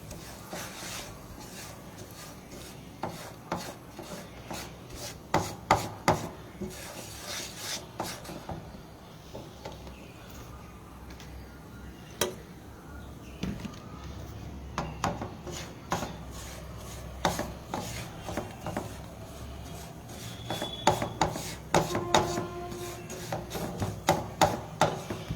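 Semolina dry-roasting in a pan as it is stirred, with repeated scraping and tapping of a utensil against the pan, close and moderately loud, coming in irregular clusters of knocks.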